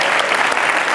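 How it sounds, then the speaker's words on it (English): A room full of people clap for a woman who has volunteered, a dense, steady burst of applause filling the whole second at close range. "Give her a big round of applause for volunteering."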